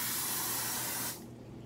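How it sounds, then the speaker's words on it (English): An aerosol can of air freshener sprays in one continuous hiss lasting about a second, close and clear, then cuts off to quiet room tone. "It was me spraying some air freshener"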